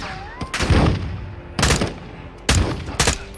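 Gunfire in Call of Duty Modern Warfare 2 comes in four loud, close bursts of several sharp shots each, with short pauses between bursts over a faint game background.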